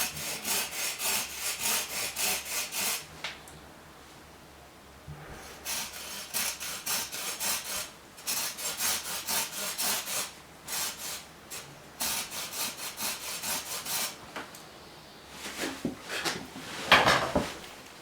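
Small hand saw cutting a notch in a wooden try stick, making close, rasping back-and-forth strokes in steady bursts with brief pauses, ending in a few lighter, scratchier strokes.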